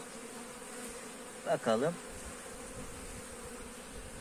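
Honeybees hum in a low, steady drone at an opened hive during a pollen-trap inspection. A voice speaks briefly over the buzzing midway through.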